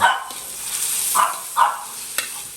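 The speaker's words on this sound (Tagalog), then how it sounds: "Ingay ng mga aso namin." Two or three short dog barks in the distance over a steady sizzle of meat frying in a pan nearby.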